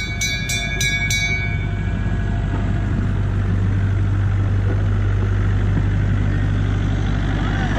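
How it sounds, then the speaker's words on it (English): A train rumbles past close by at a theme park with a heavy, continuous roar, and a few short bell-like clangs ring out at the start. "Here comes the train."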